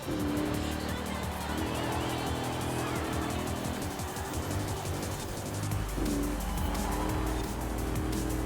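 Modern sports cars racing through a small village in Forza Horizon 4, with loud sustained engine roar and revving, occasional tire squeal, under a steady game soundtrack with someone talking over it.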